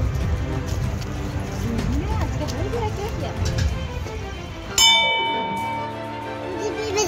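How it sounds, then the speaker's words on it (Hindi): A bell at the Sikotar Mata temple on the bank of the Sabarmati river rings clearly and loud partway through, its tone ringing on and decaying amid a crowded, noisy background with voices. "गोलू घंटी बजाएगा"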